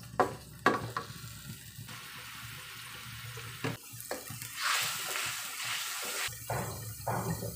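Ground chili paste dropped into a hot pan sizzles and fries, a soft hissing that swells midway, with light clinks and stirring scrapes around it.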